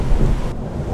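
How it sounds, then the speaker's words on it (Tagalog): Heavy rain pours down in a steady loud roar with deep rumbling thunder underneath, constant and close throughout with no voices. "Lakas ng ulan eh."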